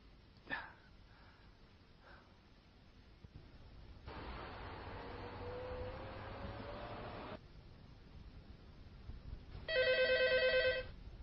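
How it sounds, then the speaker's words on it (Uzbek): A telephone rings in a short electronic burst near the end, following several seconds of steady hiss and faint background murmurs. "telefon."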